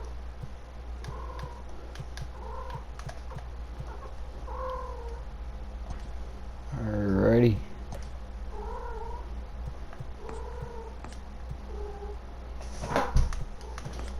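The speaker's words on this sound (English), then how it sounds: "Sorry if you can hear my cat in the background." A domestic cat meows repeatedly in the background of a room, with several soft calls spaced apart and one longer, louder yowl in the middle, while a person briefly speaks.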